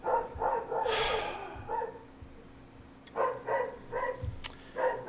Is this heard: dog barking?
yes